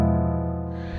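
A rich gospel-style minor chord voicing on piano, left and right hands together, rings out as one sustained chord that slowly decays, played alone with no talking.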